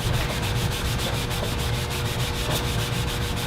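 Scrubbing Ironlak graffiti paint off a surface with an off-the-shelf buffing product, a loud close rhythmic rubbing and scouring with rapid regular back-and-forth strokes throughout, with no talking.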